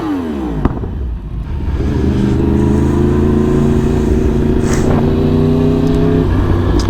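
Motorcycle ridden along a road near Lyon, the engine note climbing as it accelerates, then holding a loud, steady drone close to the rider.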